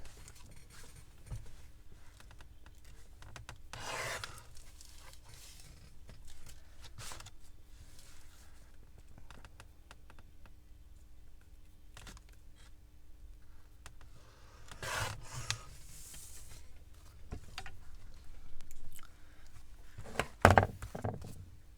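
Material cut for a handmade beach journal, a few scattered soft rasping and rubbing strokes separated by long quiet stretches, with a couple of sharper snips near the end and no voices.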